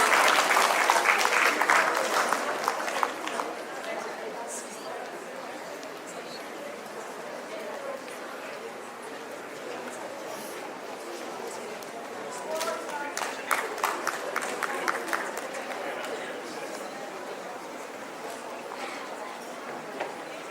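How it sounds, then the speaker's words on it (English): An audience at a school excellence awards ceremony gives a long round of applause for an award-winning school, steady clapping swelling again near the end, with some voices murmuring underneath. "A huge round of applause for them, please."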